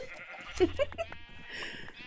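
Sheep bleating in the Minecraft video game, a few short wavering bleats over a low background drone, with some faint speech-like noise mixed in.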